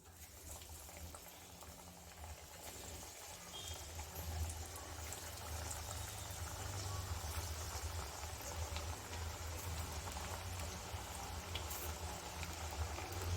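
A batch of button masala vada deep-fries in hot oil with a soft, continuous bubbling hiss. It grows a little fuller after a few seconds and carries on evenly without talk.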